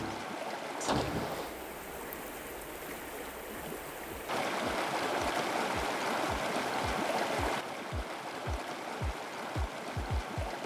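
Water of the Drin river rushing steadily through an untouched stretch, a broad continuous wash heard outdoors at moderate distance, with regular low thumps in the latter half and no voices.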